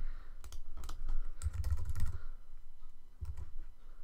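A typewriter sound effect in a LÖVE game clatters in irregular quick key clicks, with a few heavier thumping strikes among faint ticking, moderately quiet and alone.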